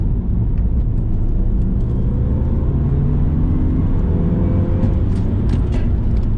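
A Subaru Legacy turbo on Michelin Pilot Sport 5 tires accelerates hard from 30 into a 60 zone, with a loud, steady engine drone and road rumble heard from inside the cabin, the pitch climbing through the gears.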